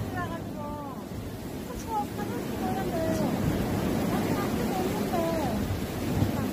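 Surf churns and rolls steadily at a sea fishing spot under strong wind buffeting the microphone, with faint high calls drifting over the continuous roar.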